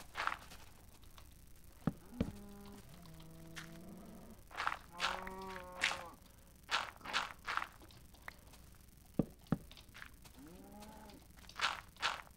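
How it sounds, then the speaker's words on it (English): Minecraft cows moo in the game several times, drawn-out lowing calls mixed with the soft footsteps and crunches of walking on blocks, at moderate level, with no talking. "Cow!"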